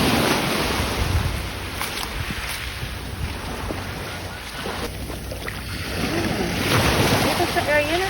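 Rough sea waves surging and crashing at Boracay, a steady loud wash with strong wind buffeting the microphone, swelling louder near the end while people talk and exclaim over it.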